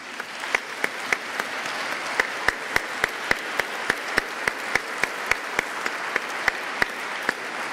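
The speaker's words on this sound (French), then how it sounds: "Est-ce qu'on peut juste les applaudir ensemble" A congregation in the Saint-André parish church in Reims applauds together in a steady, even crowd clapping, with a few louder individual claps ringing out regularly close by over the reverberant wash.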